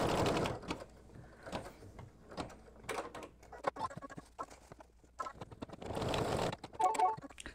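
An embroidery machine stitches an in-the-hoop mug rug with feather placements and color stops, giving bursts of rapid mechanical chatter and clicks that start and stop, close and moderately loud.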